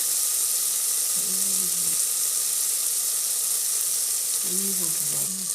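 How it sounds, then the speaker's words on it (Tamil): Tomatoes and coriander powder sauté in a pan with a steady, close sizzle and hiss throughout, while a few brief voiced sounds come through faintly. "தக்காளி போட்டதுக்கப்புறம் இன்னும் நல்லா ஒன்று கூட தக்காளி நல்லா வதங்க விட்டுடலாம்"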